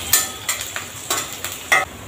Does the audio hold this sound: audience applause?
no